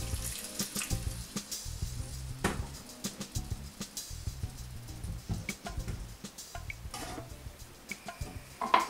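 Water running from a tap in steady bursts, with clinks and clatter of dishes in between.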